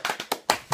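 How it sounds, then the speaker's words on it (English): Hand claps ring out close and sharp, about five of them in an uneven rhythm with short gaps between, and no voices over them. "Clapping."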